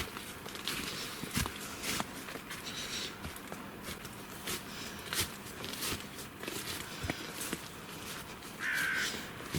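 A crow caws repeatedly in an autumn forest, sharp calls scattered over a steady outdoor hiss with rustling footsteps through brambles nearby.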